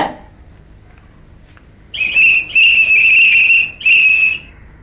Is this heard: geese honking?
no